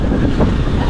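Strong headwind during a gravel bike race, roaring steadily across the microphone as a loud, unbroken rush of wind noise.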